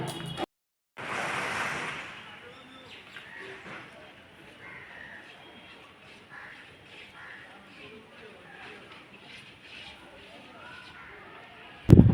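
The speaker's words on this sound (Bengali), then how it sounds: "আর কি গঙ্গার ঘাটে চলে আসলাম" Outdoors at a ghat on the Ganges river, a low continuous rush of water and wind noise on the microphone, with a brief burst of wind buffeting near the start and a sharp knock at the very end.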